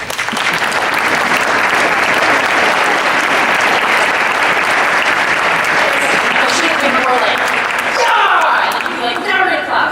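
Sustained applause from an audience at a keynote speech, a dense, loud wash of clapping that fills the whole stretch and thins slightly near the end.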